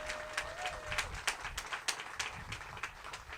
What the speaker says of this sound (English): Let's give all these churches a round of applause.